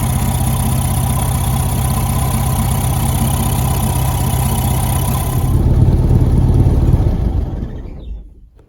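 A VW Beetle engine idling with a worn points-and-condenser 009 distributor, a steady droning run with a high-pitched squeal riding on top, briefly swelling louder before the engine cuts off and winds down to silence.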